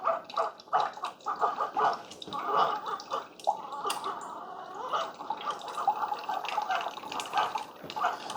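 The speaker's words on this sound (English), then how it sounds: "This pump is running, but it's just so quiet. And I can see some water moving in there." Water trickles and drips inside a running Keurig K-Supreme coffee maker as its quiet pump pushes it through. Soft, uneven gurgling and dripping continue steadily throughout at close range.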